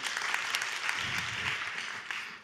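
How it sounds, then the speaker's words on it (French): An audience at a presentation claps for a colleague, a short burst of steady, fairly close applause lasting a couple of seconds before tailing off. "Applaudissez-le."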